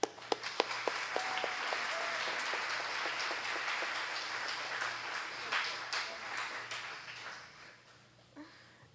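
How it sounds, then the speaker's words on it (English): An audience at the 2016 Clinton County and 4-H Fair Queen Contest applauds warmly, a steady wash of many hands clapping for several seconds that fades toward the end, with a few louder claps near the start. "I'd like for you to give a very warm welcome for the last time to our Fair Queen, Clinton County 2015, Miss Lindsay Eisenhowe"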